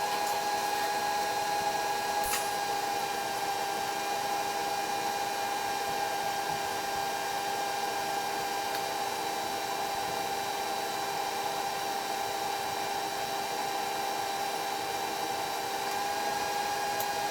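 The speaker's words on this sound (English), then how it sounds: "we're just going to add some heat with the TIG torch" A TIG torch adds heat to a steel chassis rail on a scratch-built 1954 VW barndoor single cab, giving a steady, even hiss and buzz with a constant tonal hum, running without a break for the whole stretch.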